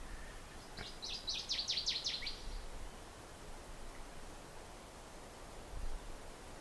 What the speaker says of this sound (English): But now the songbirds are coming back.